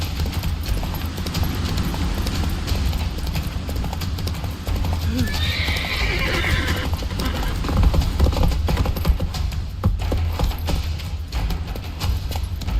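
Roach, a horse in a video game, gallops with rapid, steady clip-clop hoofbeats the whole way through, and a clear whinny rises over them about midway amid other game sounds.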